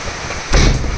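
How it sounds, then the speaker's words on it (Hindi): Heavy rain pouring during a nighttime thunderstorm in Delhi, a loud dense hiss that swells midway into a sudden low rumbling burst. "ये देखिए तो बहुत तेज़ बारिश आ रही है"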